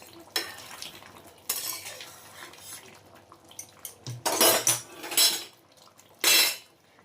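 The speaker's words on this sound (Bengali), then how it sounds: "আর এই দেখুন একটু নাড়াচাড়া করে দিই" A spoon stirs and scrapes through an egg omelette curry simmering in a pot, with several loud, clattering bursts of metal against the pot between quieter stretches of bubbling.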